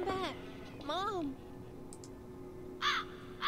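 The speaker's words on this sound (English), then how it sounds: "An evil bird. Go away, Mr. Crow" A crow in the Lost Grimoires: Stolen Kingdom video game caws twice, loud and harsh with a falling-then-rising tone, followed by brief fainter scraping sounds.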